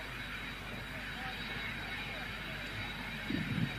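A small Cessna Citation business jet rolls along the runway with its bucket thrust reversers retracted, a steady broadband engine roar holding evenly throughout, with a brief extra rumble near the end.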